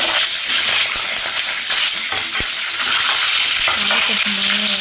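Chana dal and green chillies frying in hot oil for rice, a loud dense sizzle running continuously with brief stirring scrapes and a couple of sharp clicks.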